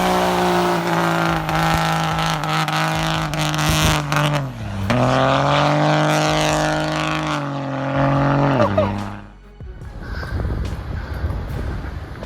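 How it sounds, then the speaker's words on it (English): A Ram diesel truck with a turbo and polished exhaust tip roars loudly at close range, its droning exhaust tone bending down and back up as the revs shift, then cutting off into a rougher, breathy rumble near the end. "One glance at that turbo and you know, this truck doesn't whisper,"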